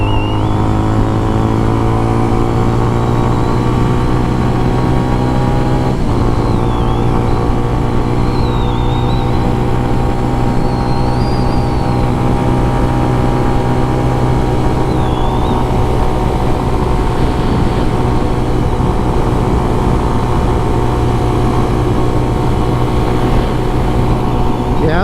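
A CFMoto 125 motorcycle rides along a curvy road in Florida, its engine droning steadily and loudly throughout with a constant pitch and a brief dip near the start, plus wind noise, heard close from the rider's position.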